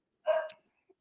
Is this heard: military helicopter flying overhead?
no